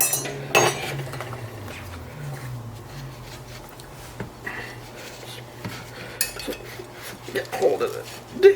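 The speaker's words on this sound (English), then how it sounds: "I'm just going to strain it into a bowl." Cooked food and liquid strained from a dish into a bowl in a home kitchen: a clatter of pots and utensils, clinks and scrapes, with quiet trickling and a person talking in between.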